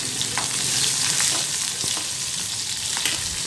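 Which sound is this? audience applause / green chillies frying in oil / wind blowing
green chillies frying in oil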